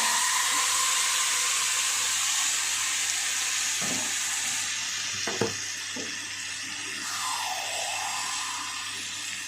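Vegetables hit hot oil tempered with panch phoron, bay leaf and a dried red chilli, giving a loud, steady sizzle that eases midway, with a few clunks of stirring and no voices.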